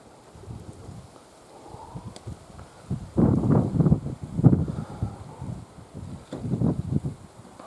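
Strong gusty wind buffeting the microphone outdoors, a low rumbling roar that swells and fades in uneven gusts, loudest in the middle, with no talking.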